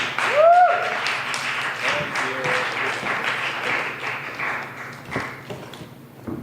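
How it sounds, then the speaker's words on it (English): Audience applause at an open mic night in a bar fills the room with steady, moderately loud clapping, a whistle rising briefly near the start and scattered crowd voices underneath. "Big round of applause for Ashinafie Abe Bar."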